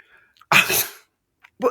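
A single sharp human sneeze bursts out close and loud after near silence, followed by a faint breath and brief vocal sound.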